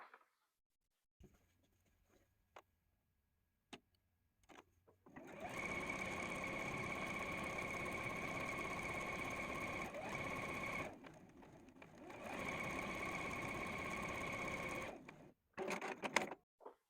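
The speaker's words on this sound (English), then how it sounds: "And we're going to sew that down." A sewing machine stitches a quilt block in long, steady runs of rapid mechanical whirring, close and clear, with a short pause in the middle and a few clicks and handling noises before and after.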